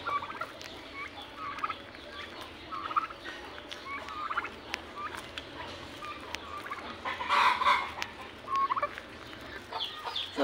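Turkeys gobble and cluck repeatedly at feeding time, with chicken-like clucks and a rooster crowing among them, a busy cluster of calls that swells toward the middle over low background rumble.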